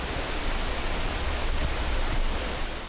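Small waterfalls on Mount Isarog pour in a steady, dense rush of water with no break, filling the space evenly at a moderate level.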